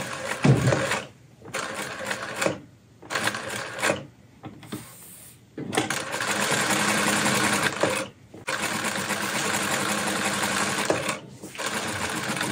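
Juki LZ-2280B zig zag industrial sewing machine stitching in several bursts of steady, fast mechanical whirring and clatter, separated by brief stops.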